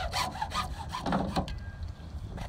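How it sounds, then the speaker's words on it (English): A hacksaw cuts thin-walled PVC pipe in quick, rhythmic back-and-forth strokes, close and fairly loud, slowing and fading toward the end. "This is really small, thin-walled stuff, so you can certainly make quick work with a hacksaw as well."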